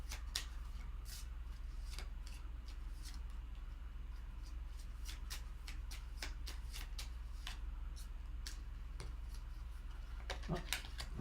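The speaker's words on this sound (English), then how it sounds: "one of my cards was faced the wrong way when I was shuffling" Playing cards are shuffled by hand at a tabletop game session, giving rapid crisp riffles and snaps repeated over several seconds, close and fairly quiet, with no voices.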